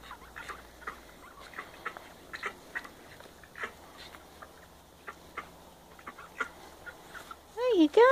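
Ducks being herded at a small country cottage, with scattered soft quacks and rustling footsteps, fairly faint and intermittent, ending in a louder burst of calls.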